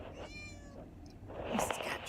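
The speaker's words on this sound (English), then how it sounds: "Mrs. Cat Jones says good morning." A pet cat in a Toyota 4Runner on a towing road trip gives a soft meow, faint and close, over low background rumble and a quiet voice.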